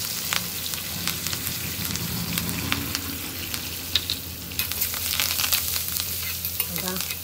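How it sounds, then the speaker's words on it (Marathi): Mustard seeds, cumin, urad dal, chana dal and curry leaves sizzle and crackle steadily in hot oil, with stirring and sharp spattering pops throughout; no one speaks. "हे आपण मोहरी, जिरं, उडीद डाळ, चणा डाळ असं तेलात टाकलेलं आहे आणि कढीपत्ता टाकूया"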